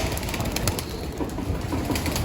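Young racing pigeons at a loft and aviary coo steadily, close at hand. A dense, constant wash of outdoor noise runs beneath them with no speech.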